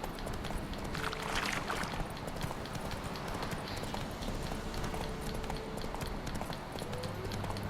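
Horse hooves gallop in The Witcher 3: Wild Hunt in a fast, steady clip-clop rhythm, continuous and close, over a dense game-like background wash.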